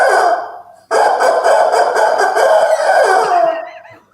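A rooster calling loudly and close, a long drawn-out crow with a brief break early on, then a sustained harsh cry that trails off near the end.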